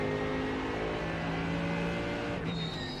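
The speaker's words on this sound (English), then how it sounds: "This engine's really loud right now." A GT3 race car engine at the Catalunya circuit in the racing game iRacing, a loud sustained high-revving drone with steady tonal harmonics, shifting pitch near the end as the car changes gear.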